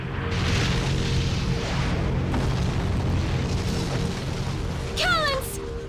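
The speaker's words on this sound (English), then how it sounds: "So many beautiful fireworks." Rolling booms and pops of fireworks in the PS2 game Magna Carta: Tears of Blood sound over a low musical drone, and a rising whistling sweep near the end comes just before the sound drops.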